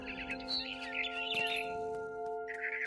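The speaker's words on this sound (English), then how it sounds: "Then I heard chirping outside my window. It was a barn swallow going back to her nest." Barn swallow chirping in the video game What Remains of Edith Finch, quick bright twittering calls in short bursts over a steady background hum.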